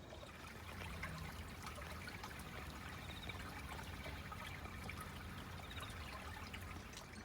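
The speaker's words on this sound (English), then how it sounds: "Isn't this a pretty little water flow here?" A small stream of water trickles and splashes steadily outdoors in Japan, a faint, continuous babbling flow with no voices over it.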